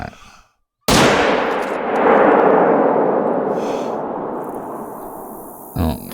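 A shotgun loaded with birdshot fires once in the hunting game theHunter Call of the Wild: a loud, sudden blast that rolls out into a long, fading echo, with a brief softer sound near the end.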